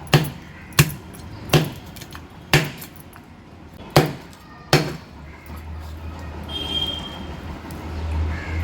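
Knife chopping through a mullet fish on a cutting board to take off the head before frying, six sharp, evenly spaced whacks close up, then a low rumbling hum.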